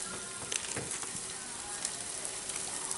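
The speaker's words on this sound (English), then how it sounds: "while I'm sweating my onions" Onions sweating in a pan with spices blooming in the oil give a steady, close, soft sizzle and crackle with little pops, and no voices.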